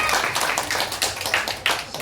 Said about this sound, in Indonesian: Ayo tepuk tangan bagi Tuhan Yesus